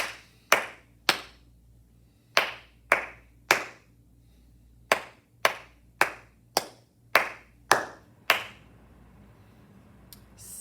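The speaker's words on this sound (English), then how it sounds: "Let's clap it." Single sharp hand claps ring out one at a time in an uneven practice rhythm, some in quick pairs and others spaced apart, close and crisp in a quiet room.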